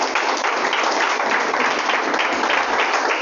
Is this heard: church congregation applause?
yes